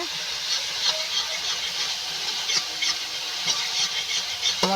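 Masala for chana masala fries in a pan as it is stirred, producing a steady soft sizzle broken by occasional scrapes and light taps of the spoon, close up and fairly quiet.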